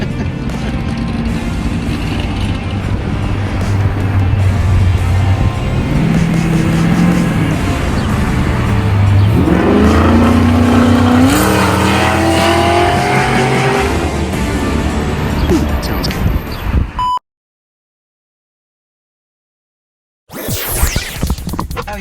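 A 645-horsepower Pontiac G8 VE Commodore SS engine roars loudly and close by, rising in pitch under hard acceleration with tire noise, cutting to silence before bursting back in.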